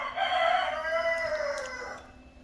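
A rooster crows one long drawn-out call, loud and fairly close, with outdoor background noise beneath it.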